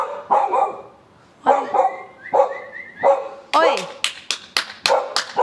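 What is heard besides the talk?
dog barking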